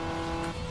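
Audi A3 Quattro, a four-wheel-drive car, racing in Need for Speed Underground 2 under hard braking, with a steady loud engine drone and faint tire noise throughout a brief moment.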